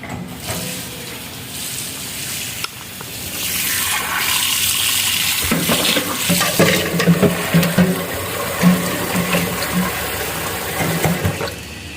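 Tap water runs into a bowl to soak dried mackerel (daing na alumahan) before cooking, a steady splashing rush with clinks and clattering of handling over several seconds, close by and without speech.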